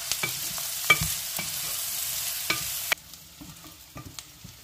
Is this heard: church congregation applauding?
no